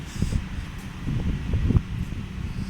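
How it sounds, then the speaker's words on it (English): Steady low wind rumble buffeting the microphone outdoors at a railway line, with a few soft gusts and rustles throughout. "It's a bit windy out here"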